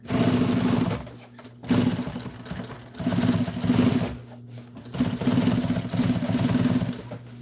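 A sewing machine stitches upholstery for an old military jeep seat, running in four steady bursts of rapid, buzzing needle strokes separated by brief pauses, loud and close.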